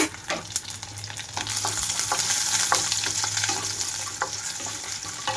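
Garlic cloves and vegetables frying in a pan for a cluster bean and toor dal fry, a steady close sizzle with occasional pops and stirring scrapes throughout.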